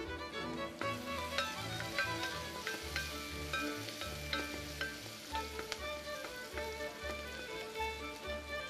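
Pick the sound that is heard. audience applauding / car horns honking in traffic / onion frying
onion frying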